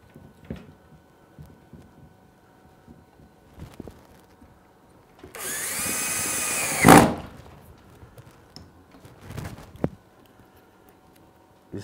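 Power drill driving screws into a window sash: a steady high whine runs for about two seconds, rising to a brief louder burst as the screw seats, amid quiet handling knocks and taps before and after.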